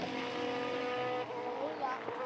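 Radical race cars roar through the hairpin at the Jerez circuit, a sustained engine drone with shifting pitch, heard beneath continuous commentary.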